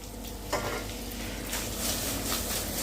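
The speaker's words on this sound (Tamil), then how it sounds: "நல்லா ஃப்ரை ஆகும் தெரியுதா உங்களுக்கு இப்போ தேங்காய் வதக்கும் போதே" Grated coconut fried with curry leaves in a pan for coconut rice, giving a steady, close sizzle and frying crackle with a few stirring scrapes throughout.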